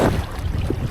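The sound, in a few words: gusty wind while windfoiling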